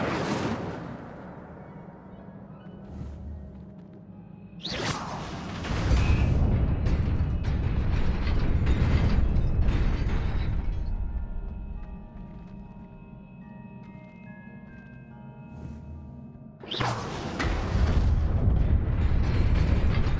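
Incendio fire spell cast in Hogwarts Legacy: a sudden roaring whoosh of flame erupts, sustains for several seconds and fades, then a second loud fiery burst follows near the end amid game ambience.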